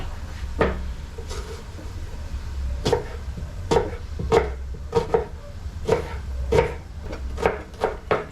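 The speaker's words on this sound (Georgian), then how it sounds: "ხახვის დაჭრა." A knife chops onion on a cutting board while Bolognese sauce is being prepared, giving about a dozen sharp, close knocks in an uneven rhythm over a low kitchen hum.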